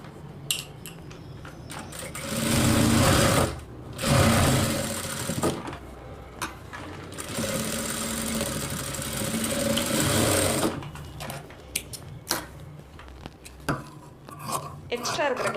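A sewing machine stitches blouse patti fabric in bursts, loud running stretches broken by short pauses, with clattering handling noises in between.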